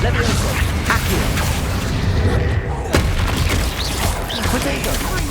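Confringo blasting spells in Hogwarts Legacy burst in a dense run of loud booms and crackling impacts, layered with battle noise and voices throughout.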